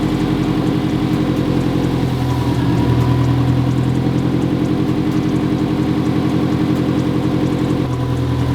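A 2004 Subaru WRX STI engine idles steadily while warming up at a low, even rumble, holding the same pitch throughout with no revving, heard up close with no talking.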